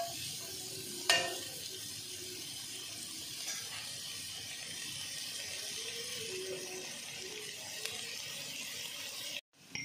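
Chicken fried rice ingredients are stirred together in a pan over a soft, low fry sizzle, with a few light utensil knocks and scrapes and one brief louder clack.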